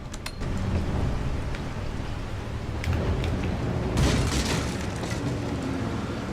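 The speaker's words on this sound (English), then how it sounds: "let's just toss out the regular grenade then" A regular grenade explodes in Resident Evil 4 HD, a deep rumbling boom that swells around the four-second mark over a steady low background hum, with no voices.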